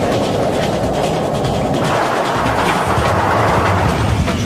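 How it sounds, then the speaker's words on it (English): A train pulls into an underground station platform, a loud, steady rumble of wheels and rushing air filling the space throughout, with the roar swelling slightly toward the end. "When a train enters an underground platform, it pushes a rush of air ahead of it."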